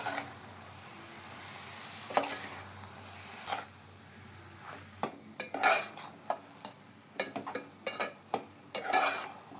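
Spinach is stirred into a mango masala in a pan, soft scraping and clinks of a spoon against the pan over a faint sizzle, quiet and close with irregular strokes.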